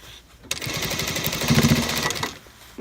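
A sewing machine runs a steady, fast burst of stitching along a coat sleeve being shortened for a designer garment alteration, close and fairly loud for about two seconds before stopping, with no talk over it.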